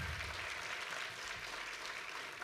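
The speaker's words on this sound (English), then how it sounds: "One more round of applause for our Metro President." An audience applauds the Metro Council President at a State of the Region address, a steady, distant wash of clapping that holds evenly throughout.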